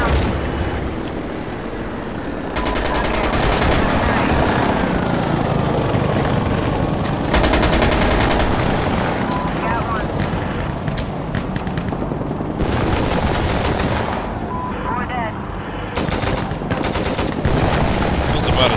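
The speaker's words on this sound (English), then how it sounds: "Gunship is coming in! Watch out!" A gunship helicopter in a video game fires loud, sustained automatic bursts over a constant roaring rotor wash, with sharp cracks scattered through and voices talking beneath.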